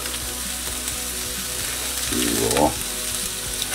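Small chopped gherkins sizzling loudly in a frying pan for Berliner Hoppelpoppel, a steady close crackle with stirring scrapes, a brief rising squeak near the end and a single spoken word.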